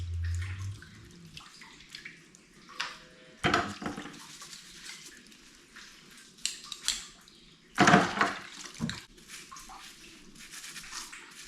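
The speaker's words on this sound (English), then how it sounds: "Rinse everything." Water running and splashing while milking equipment is rinsed in a dairy setting, a steady low wash of flow broken by louder gushing bursts and clanks of parts, close by with no talk.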